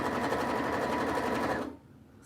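A home sewing machine stitches a fabric face mask in a steady, whirring run of rapid needle strokes, close and loud, then stops abruptly, leaving a quiet room hum.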